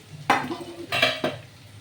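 Potatoes and onions fry in a pan with a low sizzle, broken by two or three distinct scraping stirs of a utensil against the pan.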